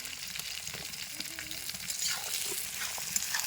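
Onion frying in hot mustard oil in a pan, a dense steady sizzle with occasional stirring and soft clinks, close and continuous with no talking.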